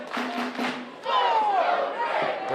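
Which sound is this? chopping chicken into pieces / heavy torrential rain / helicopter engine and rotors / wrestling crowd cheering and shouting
wrestling crowd cheering and shouting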